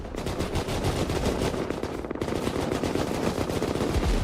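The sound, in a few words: cannons firing in a video game battle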